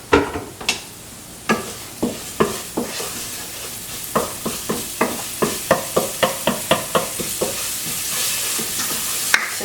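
Garlic frying in a pan, a steady sizzle under repeated sharp scrapes and taps of a utensil stirring it, about twenty strokes in an uneven rhythm, close and fairly loud with no talk.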